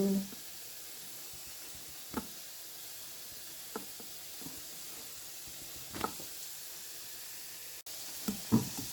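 A dosa made with green gram and urad dal batter fries on a hot pan, a faint, steady sizzle with a few soft taps and scrapes at intervals in a quiet kitchen.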